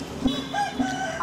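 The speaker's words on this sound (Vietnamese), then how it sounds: "Hai gà giao lưu kìa." Two roosters crow back and forth, their calls overlapping at close range with rising and falling cries, no talk over them.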